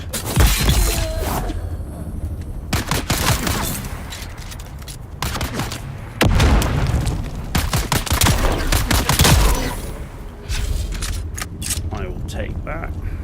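Grenade blasts and rapid gunfire ring out in the Dune Awakening video game, with loud bursts and crackling volleys repeating close by while players talk over the action.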